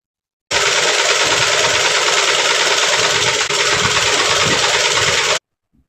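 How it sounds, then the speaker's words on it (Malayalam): A sewing machine stitches a folded sleeve hem on a kurti, giving a loud, close, steady mechanical whir. It runs unbroken for about five seconds, then stops abruptly. "സ്ലീവ് മടക്കി അടിക്കാം"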